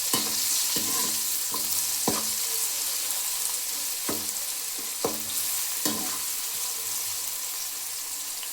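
Ginger-garlic paste pounded in a mortar is stirred into onions frying in a pan for a brinjal curry: a steady sizzle runs throughout, with several sharp spoon scrapes and knocks at uneven intervals and no talking.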